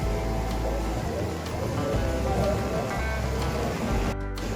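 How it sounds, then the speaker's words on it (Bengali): Heavy evening downpour at a seaside resort in Mandarmani, a dense steady wash of rain on surfaces near the sea, with faint voices in the background. "মুষলধারে বৃষ্টি হচ্ছে"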